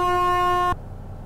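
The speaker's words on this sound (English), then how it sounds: "The air horn." A Kenworth K100 truck air horn in a video game mod sounds as one loud, sustained harmonic blast lasting under a second before stopping sharply, followed by faint background hum.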